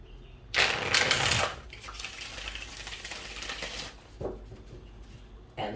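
Tarot cards riffle-shuffled by hand, a loud crisp burst of fluttering card slaps near the mic, followed by softer handling rustles and a couple of brief taps toward the end.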